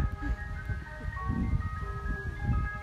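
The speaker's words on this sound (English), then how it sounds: "This is a slow moving truck playing his jingle." A slow-moving ice cream truck plays its melodic jingle down a street near a park, steady tonal notes continuing throughout over low traffic rumble, moderately close and clear.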